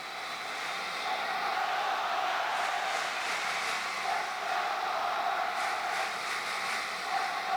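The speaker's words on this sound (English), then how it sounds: "The Spectrum crowd comes alive." Ice hockey crowd at the Spectrum in Philadelphia during a 1989 Flyers versus Capitals playoff game, a steady roar of cheering filling the arena, swelling slightly in waves, distant and broad.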